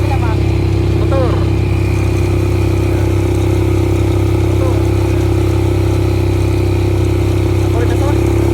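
A motorcycle engine idles steadily and loudly on sand throughout, a constant low rumble with brief voices breaking in over it.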